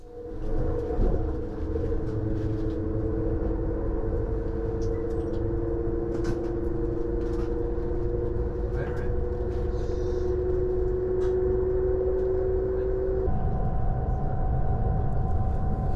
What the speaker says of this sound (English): This section between Erfurt and Halle is the first part of our trip where the ICE4 can speed up to its maximum potential